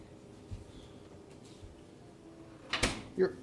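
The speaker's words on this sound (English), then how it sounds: "Now close the other door." A door swings shut with a short knock and thud near the end, followed by a brief bump, set against quiet indoor room tone with faint, sparse sounds before it.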